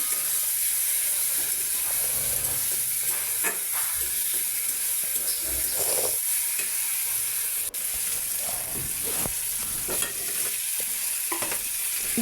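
Egg and potato curry simmers in a pan with a steady bubbling sizzle and occasional stirring scrapes throughout, close and continuous.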